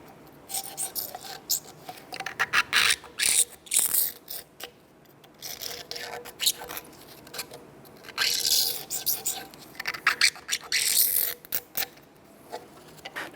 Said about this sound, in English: we're going to use a pick and clean up around the perimeter here because there is a lock ring in here